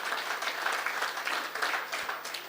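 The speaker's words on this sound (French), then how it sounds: "Oui, j'ai pas besoin de vous demander d'applaudir." Studio audience applauding at the grand finale of a French reality TV show about entrepreneurship, a dense, steady wash of clapping filling the whole stretch at even strength with no voices over it.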